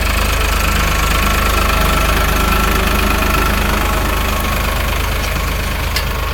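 Tractor engine running steadily while sowing wheat in a field, a loud continuous knocking diesel drone close by with no talk.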